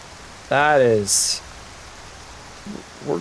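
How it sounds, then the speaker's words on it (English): Dense rain falling in modded Skyrim (Nolvus) makes a steady, even hiss under a brief excited voice. "That is some dense rain."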